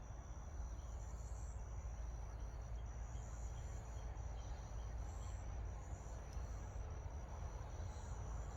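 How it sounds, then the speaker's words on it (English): Distant road traffic reaches a wooded spot as a steady, faint rumble with no breaks, and insects buzz lightly above it. "The traffic noise back this way is horrible."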